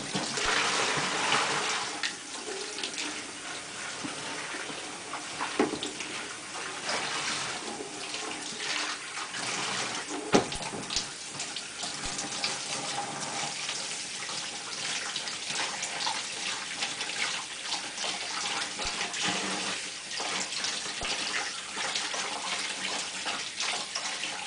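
Cool water runs steadily from a tap while a piece of hardanger embroidery is rinsed, a continuous close splashing gush with small irregular splatters and bumps, sustained throughout with no talking.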